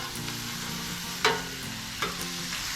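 Venison sizzles on a griddle just after being flipped, a low steady hiss with two brief scraping clatters from a spatula, backed by faint music.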